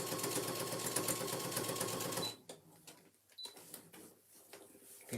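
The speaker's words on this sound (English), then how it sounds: "Right, you're sewing." A sewing machine stitches a handbag in a fast, steady mechanical whir for about two seconds, then stops, leaving faint handling clicks and rustles of thick fabric nearby.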